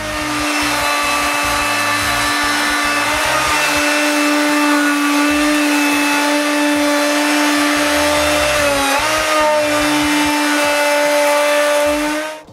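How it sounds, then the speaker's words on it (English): Big woodworking router with a slot-cutting bit cutting a 1/2 inch slot in a shop door panel frame, a loud sustained high whine with harmonics and a brief dip midway, close up with no talk. "I use my big router with this slot cutting bit"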